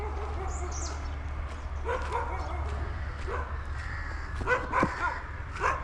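Dogs barking outdoors near an old church in Ooty, a few scattered barks and yips at moderate distance over a steady low hum.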